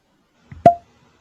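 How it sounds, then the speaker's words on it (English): A cork pulls free from a bourbon bottle with a single crisp, close pop and a brief hollow ring, preceded by a soft rubbing squeak, then silence. "Oh, very nice cork pop too."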